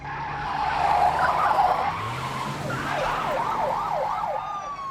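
Tires skid and squeal during a car chase in the James Bond film Diamonds Are Forever, with wavering screeches rising and falling over engine rumble, loud and close with no talk.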